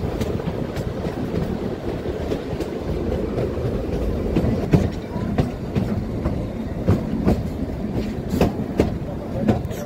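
The Kalka-Shimla narrow-gauge toy train runs into a mountain tunnel, giving a dense, continuous rumble close by with repeated sharp clicks of wheels on the track.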